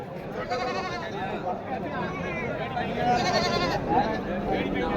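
Goats bleat repeatedly and close by at a busy livestock market at Kambainallur, with wavering cries overlapping under constant chatter and talk from the crowd.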